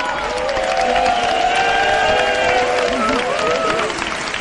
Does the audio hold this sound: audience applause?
yes